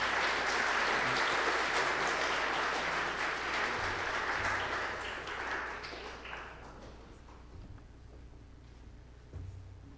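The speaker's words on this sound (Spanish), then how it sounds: "yo les pido que le den un gran aplauso a Eduardo Flores" A church congregation at a Sunday afternoon service breaks into loud, dense applause that gradually thins and fades after about five seconds, leaving scattered claps and quiet room noise.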